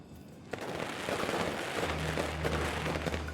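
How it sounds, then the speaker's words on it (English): Firecrackers burst in the video game Nine Sols, a dense, continuous crackle of rapid pops that stays loud throughout, with a low steady musical drone joining partway through. "Wow, firecrackers."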